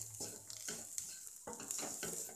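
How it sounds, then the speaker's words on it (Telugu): Beans curry frying in a pan is stirred with a utensil, making faint scraping strokes over a soft, steady sizzle. "అంతా సమంగా మిక్స్ అయ్యే విధంగా మిక్స్ చేసుకోండి."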